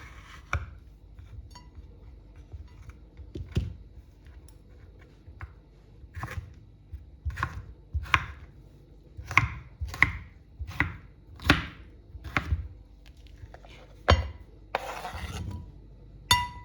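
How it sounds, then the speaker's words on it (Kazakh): A knife chops vegetables into cubes for a Greek salad, giving sharp board taps that start sparse and become a quicker, irregular run of crisp knocks, close and fairly quiet, with no talking. "Кубик қып тураймыз, әдемілеп тұрып."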